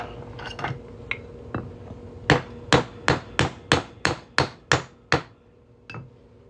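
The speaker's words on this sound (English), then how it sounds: "We're gonna hammer this punch right through." Sharp metallic hammer strikes ring out as a metal punch is driven through a 1997 silver quarter, a few light taps followed by a steady run of about nine hard blows, close and loud.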